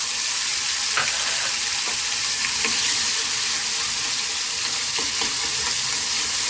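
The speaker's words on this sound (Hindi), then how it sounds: "थोड़ा सा हींग डालूंगी, थोड़े कड़ी पत्ते और जो हरी मिर्ची का अपन ने मतलब चटनी जैसा बनाया था उसको डाल दूंगी।" Asafoetida, curry leaves and a green chili chutney sizzle steadily in hot oil, a dense continuous crackle with a few sharper pops and faint stirring scrapes throughout, close and fairly loud, with no talking.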